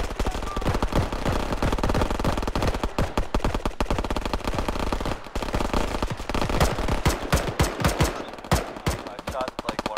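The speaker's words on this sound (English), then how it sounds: "I shot, like, one of them in the head three times." Gunfire in the military shooter ARMA 3: loud, close bursts of automatic fire and rapid single shots that keep going through the whole clip.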